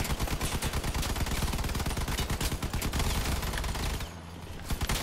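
Rapid bursts of gunfire in a PlayStation vehicle combat game, dense and loud with fast repeating shots that drop out briefly near the end before resuming.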